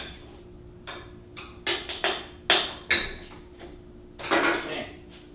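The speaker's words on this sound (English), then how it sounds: "now I'll kind of pull on the bottom as I'm prying those clips out. And you'll hear it let go." Plastic headlight grille clips on a Jeep JK snapping loose as they are pried out, a handful of sharp, close clicks and pops spaced irregularly over a quiet background, with a final louder rustling release.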